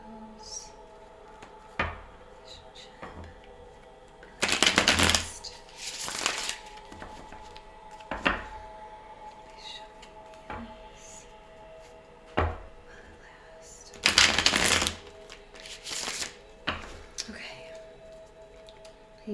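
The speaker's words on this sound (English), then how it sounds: "While I shuffle." Tarot cards are shuffled in several bursts of riffling and sliding, with quiet pauses and soft handling noises between them.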